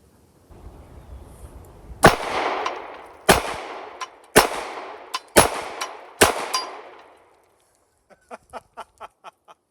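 Several sharp rifle shots ring out at irregular intervals, each loud crack trailing into a brief decay, fired from a Hi Lux TD-3C scoped rifle at targets; a quicker string of faint metallic ticks follows near the end.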